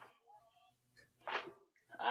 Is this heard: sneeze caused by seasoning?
yes